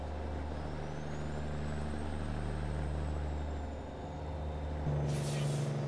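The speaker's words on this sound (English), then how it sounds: "you have to use an engine brake to slow it down" A heavy truck engine in American Truck Simulator drones steadily with a low rumble and a faint high whine during engine braking, then a brief hiss of air near the end.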